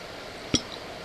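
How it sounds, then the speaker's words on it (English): A single sharp metallic click as the barrel of a .32 ACP Ruby Model 1915 pistol is turned and locked into its slide, close and brief against a quiet background. "Lock the barrel into place."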